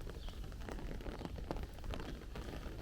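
Rain falls on a Bensonhurst street in Brooklyn, New York, as a faint, steady patter with scattered sharper drop taps and no voices.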